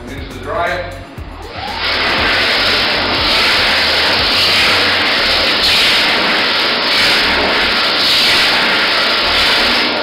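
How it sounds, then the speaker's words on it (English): After a brief moment of quieter sound, an electric hand dryer starts and runs with a loud, steady rushing roar for the rest of the clip. "And into the dryer."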